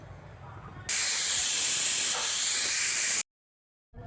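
A pressure cooker lets off a single loud, steady hiss of steam for about two seconds while mushroom pulao cooks, then stops abruptly into silence.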